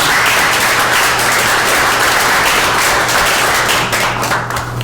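A meeting audience gives a round of applause, loud, dense and sustained clapping from a room full of people that carries steadily before tapering slightly near the end.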